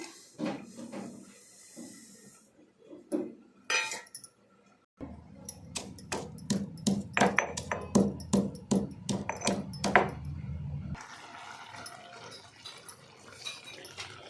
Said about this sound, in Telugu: ఇప్పుడు నువ్వుల్ని పొడి చేసుకుందామండి